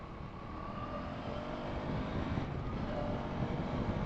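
A 2025 KTM Duke 390 motorcycle engine pulls steadily under load while riding, its low rumble mixed with strong, continuous wind rush across the microphone.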